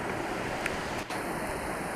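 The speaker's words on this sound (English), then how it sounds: "there is some rushing water right here" Rushing water from the Jordan waterfall, flowing under ice, makes a continuous broadband roar that stays loud and steady throughout.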